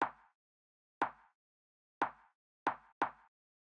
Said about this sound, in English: This is that rim shot that you hear on the 2 and the 4.